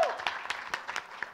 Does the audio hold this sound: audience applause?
yes